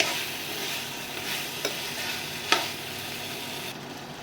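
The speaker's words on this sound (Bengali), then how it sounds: "ভালো করে কষে নিতে হবে।" Fried potatoes stirred and sautéed in a pan for an egg and potato korma, a soft continuous sizzle with a couple of sharp spatula clinks, fairly quiet and without talk.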